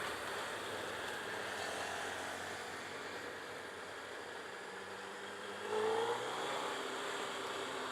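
A 2017 Suzuki Hayabusa motorcycle pulls in 5th gear, its engine a steady mid-pitched drone heard faintly under wind rush, rising slightly in pitch and swelling louder near the end.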